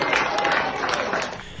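Applause from a crowd after a 50K race, a dense, continuous patter of clapping that holds steady and then thins slightly near the end, mixed with voices.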